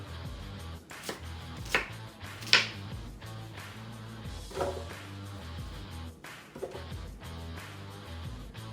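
A knife rough-chops a whole yellow onion on a cutting board for jerk chicken marinade, producing a few uneven, close thuds and crisp cuts spaced irregularly over several seconds against a quiet background.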